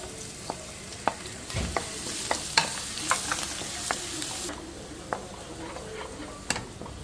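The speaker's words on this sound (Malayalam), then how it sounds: "അപ്പോൾ ഇഞ്ചിയും വെളുത്തുള്ളി നമ്മൾ എണ്ണയിലിട്ട് മൂപ്പിച്ചിട്ടുണ്ട്" Crushed ginger and garlic fry in oil while a vegetable pulao is being made, giving a steady close sizzle broken by sharp clinks and scrapes of stirring, with no talking.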